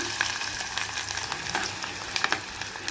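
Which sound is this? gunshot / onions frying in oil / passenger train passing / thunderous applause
onions frying in oil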